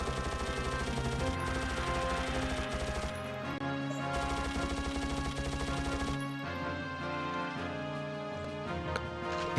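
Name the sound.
machine gun fire in the video game Mortyr 2093-1944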